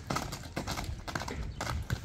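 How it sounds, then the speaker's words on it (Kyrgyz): Hooves of a Karabair horse clip-clop as it walks, a steady run of close, distinct strikes on firm ground with no voices. "Кара байыр жылкы ушундай болот достор."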